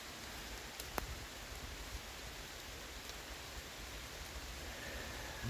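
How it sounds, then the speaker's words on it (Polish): Rain falls under trees in the outdoors as a soft, steady hiss of drops, faint and even throughout, with a single sharp tap near the start. "deszcz pada tu jeszcze pod drzewami"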